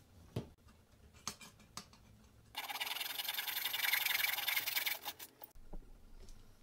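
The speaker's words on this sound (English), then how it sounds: "So we're now back to the trusty hacksaw." Hacksaw cutting copper pipe for a pyramid frame: a steady, fairly loud rasping burst of back-and-forth strokes lasting about three seconds, preceded and followed by a few faint clicks and handling noises, with no talk.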